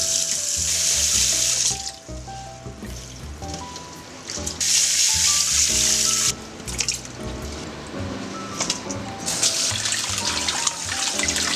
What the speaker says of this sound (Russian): Промываем, пока вода не будет чистая